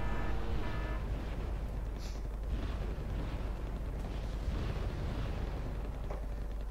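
Mortar explosions in the video game Wargame: Red Dragon, during a 10v10 battle, form a dense, continuous rumble of overlapping blasts and booms, loud and sustained with no talking.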